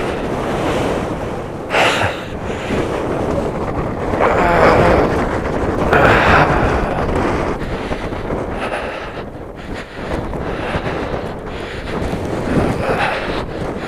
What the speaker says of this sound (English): Yes, the wind is picking up.